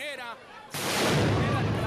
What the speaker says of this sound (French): Ils lancent des pétards et des grenades assourdissantes dans le jardin.